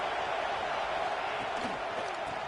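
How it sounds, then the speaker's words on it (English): A packed football stadium crowd roars continuously as the defense takes the field, a dense sustained wall of noise with no clear breaks. "Listen to this crowd just shaking the girders of this place, trying to help their defense."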